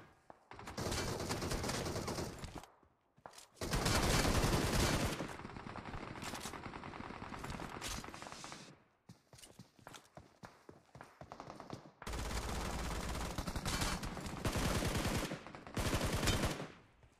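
Bursts of automatic gunfire crackle in a PUBG Mobile match as two enemies are taken down, several dense volleys separated by short pauses, loud and close with scattered single shots between them.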